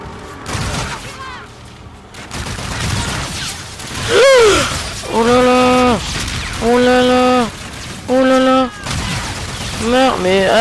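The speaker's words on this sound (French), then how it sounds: "Ah, mais je me fais tirer à travers la fenêtre." Gunfire and shattering window glass in the video game Call of Duty: Infinite Warfare, loud bursts of shots with crashing impacts, broken up by rising and falling synthetic tones, as someone talks in the middle of the action.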